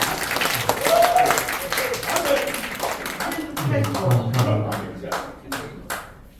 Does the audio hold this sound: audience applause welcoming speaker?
yes